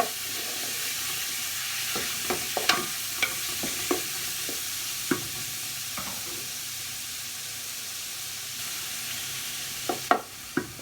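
Beef lightly browning in a pan for Peruvian lomo saltado stir fry, a low steady sizzle broken by scattered sharp clicks of stirring and the spatula against the pan.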